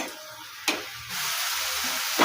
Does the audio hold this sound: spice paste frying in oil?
yes